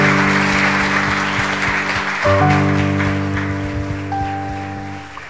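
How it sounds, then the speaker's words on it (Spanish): Church congregation applauding for the pastor, a dense wash of clapping close by that slowly fades, with sustained music tones running underneath. "Vamos más fuerte ese aplauso para Dios"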